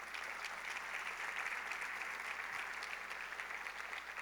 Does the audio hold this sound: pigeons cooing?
no